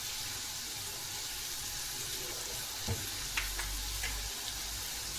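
Garlic sautés in a pan for a small onion chutney, sending up a steady, fairly loud sizzle with a few faint clinks and stirring scrapes partway through and no voices.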